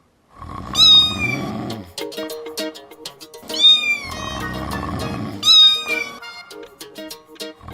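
A person imitates a cat, giving three loud, drawn-out meows spaced about three seconds apart, each with a rising then falling tone and a mewing quality, with no other voices or sounds around them.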